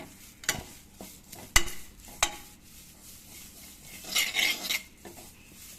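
Dry spices rattle and scrape as a spoon stirs them around a pan, with sharp clinks against the metal and a soft rustling stretch.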